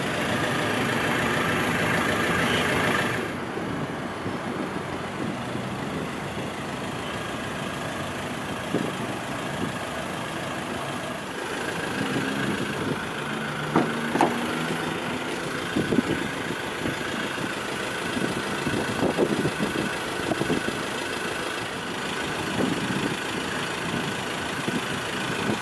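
A 2013 Ford Ranger 2.2 4X4 XL single-cab pickup idles steadily, a continuous mid-low engine drone with a few faint knocks and rattles over it, heard close and without talk.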